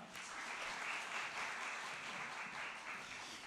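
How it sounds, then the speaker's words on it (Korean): A church congregation applauds to welcome the pastor before a sermon, a continuous even patter of many hands heard fairly faintly from across the sanctuary, with no voices over it. "우리 목사님 박수로 환영하겠습니다"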